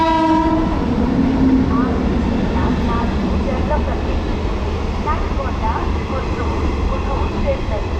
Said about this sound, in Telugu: సో WAG 9 లోకోమోటివ్తో ఫ్లాట్ ట్రైన్ అయితే వెళ్తుంది